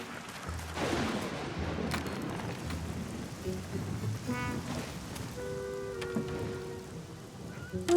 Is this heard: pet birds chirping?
no